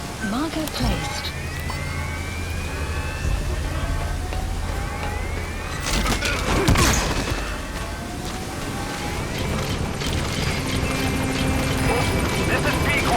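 In the video game Metal Gear Solid V: The Phantom Pain, a support helicopter's rotor drone and engine rumble fill the scene steadily, with radio-style voices talking over it and a brief crash midway.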